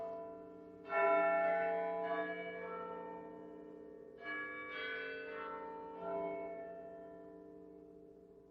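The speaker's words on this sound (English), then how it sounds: "here are some more bells, listen" Church bells ring in Lincoln on an evening walk, several overlapping peals with long sustained tones striking in irregular waves and lingering resonance, moderately close and clear with no talk over them.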